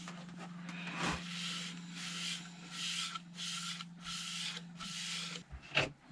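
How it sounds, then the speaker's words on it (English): Steady rubbing of a cloth applying sanding sealer to spinning wood on a lathe, a soft whooshing friction in repeated strokes over a constant low motor hum. "I'm just going to apply the sanding sealer again like I did on the back"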